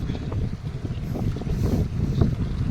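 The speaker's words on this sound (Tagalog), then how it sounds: "So malakas ang hangin, maalon." Strong wind at sea buffets the microphone with a constant low rumble, gusting unevenly over rough water, with no voices.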